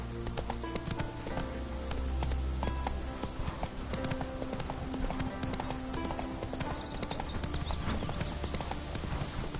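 Roach, a horse in The Witcher video game, galloping with rapid rhythmic hoof clip-clops over game music and ambience, with a brief whinny-like tone partway through.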